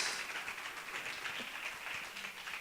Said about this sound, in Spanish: Vas a darle un gran aplauso al Señor.